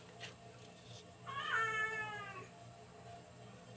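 A cat gives a single drawn-out meow, faint and close, against a quiet background hum.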